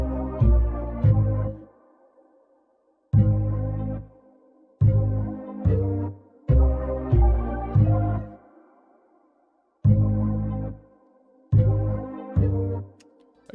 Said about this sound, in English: we used this bass from Expand, and it's the double bass preset, and it just sounds like this